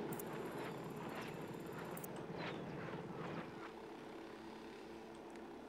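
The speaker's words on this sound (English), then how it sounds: "Why don't you fly your drone out and just blow it up with a mortar?" A drone hovers and flies in the Ghost Recon Wildlands video game, giving a steady whirring propeller drone with some soft clicks over it, moderately loud throughout and fading slightly toward the end.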